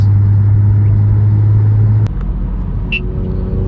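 An Infiniti Q60 fitted with column-mounted paddle shifters drives along with a loud, steady low engine rumble from inside the cabin. The tone drops partway through, as if on a shift, and there is no talking.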